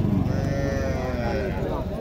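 A local dairy cow at a rural cattle market in Naogaon gives one loud, drawn-out moo from close range, with the dull murmur of the market crowd behind it.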